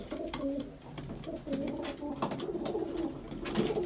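A handsome Mardin pigeon coos close by in a steady run of soft, throaty rolling calls, with light rustling and faint background noise throughout.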